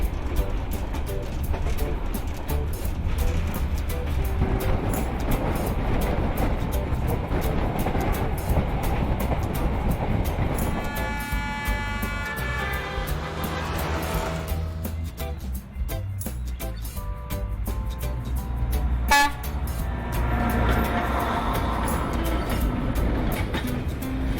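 A train rumbles and clatters steadily along the rails in Vietnam, and a horn toots partway through before the rolling noise carries on.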